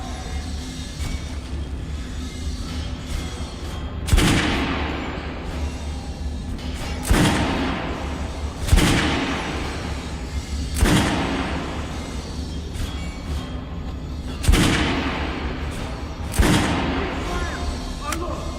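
Gunfire at a firing range in Metro Last Light Redux: single loud shots ring out at irregular intervals, about every two seconds, each with a short echoing tail over steady background ambience and occasional voices.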